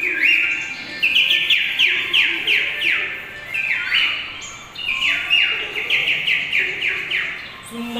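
A performer entertaining children at a public event imitates bird calls with his voice: loud, close, repeated whistled chirps and sweeping tweets in quick rhythmic bursts, with brief pauses between phrases.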